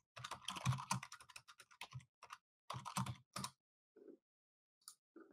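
Computer keyboard typing with short bursts of quick, close key clicks, a pause, then a few isolated taps in a quiet room.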